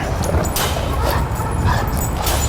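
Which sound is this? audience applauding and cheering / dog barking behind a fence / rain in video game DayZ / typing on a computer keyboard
dog barking behind a fence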